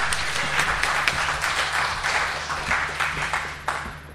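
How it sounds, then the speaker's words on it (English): Audience applause for a speaker introduced at a talk on Quasar laser tag, a dense steady clatter of many hands that holds fairly evenly for about four seconds before easing slightly near the end. "round of applause, everybody"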